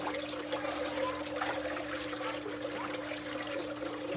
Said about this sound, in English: Here I get some of the water coming out of the beds.